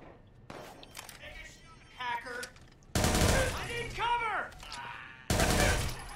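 Gunfire bursts in the Watch Dogs 2 video game, set in San Francisco by day, crackling in loud rapid volleys around the midpoint and again near the end, with excited voices talking throughout.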